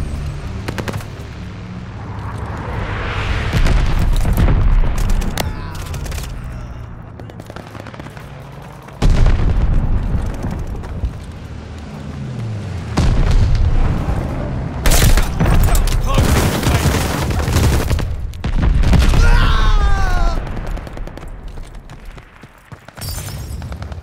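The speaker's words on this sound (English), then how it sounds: "Teammate called a bombing run" A bombing-run airstrike in the mobile shooter COD Mobile, with loud, booming explosions arriving in several heavy waves. Crackling gunfire and rumbling blasts fill the gaps, and a brief whooshing streak passes near the end.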